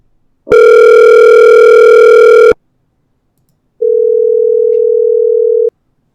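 Telephone ringback tone heard while placing a call: a loud, steady electronic tone sounding for two seconds, a short silence, then a second, quieter tone of similar length, with no voices.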